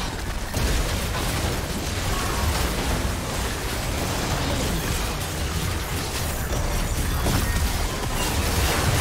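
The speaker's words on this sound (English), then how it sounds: "Team's turret has been destroyed." A turret being destroyed in League of Legends, during a Poppy versus Aatrox top-lane match: a dense, continuous explosive roar with crackling bursts holds at steady loudness throughout, with no pauses.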